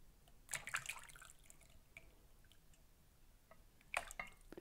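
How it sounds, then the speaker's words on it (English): Whey from Greek yogurt drains through a cloth, giving faint, sparse drips and small wet splashes, with a few sharper drops near the start and again near the end, over quiet background. "You can see it's still draining, right?"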